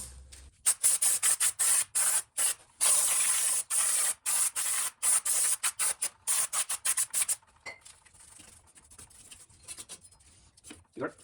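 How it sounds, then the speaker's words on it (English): Repeated bursts of brake cleaner spray hissing close up onto car drum and disc brakes, some long, some short, in quick succession, then quieter rustling and scraping afterward. "So we're gonna take some brake cleaner."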